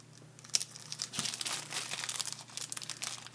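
A plastic 1/35 scale Tiger tank model kit part is ripped from its crinkly packaging, making close crumpling and tearing noises in irregular bursts with one sharper rip partway through, and no speech over it.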